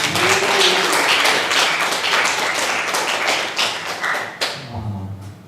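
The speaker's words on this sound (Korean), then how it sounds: "감사의 박수 드리겠습니다" A church congregation applauds its pastor with loud, dense clapping that fills the room steadily, then thins and tapers off toward the end.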